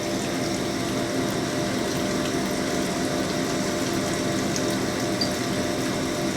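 Hone grinding inside a Harley-Davidson Evolution engine cylinder, a steady dense whir with a watery wash of honing fluid, loud and continuous throughout with no talk.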